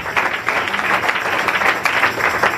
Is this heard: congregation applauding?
yes